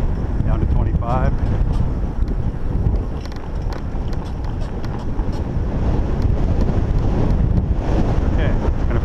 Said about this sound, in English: but still a good strong headwind